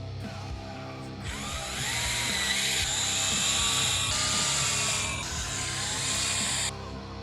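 A power drill bores pilot holes through the roof of a GMC Sierra or Chevy Silverado truck cab. After a brief quiet start it gives a steady whine with a slight dip midway, then cuts off near the end, with no talk.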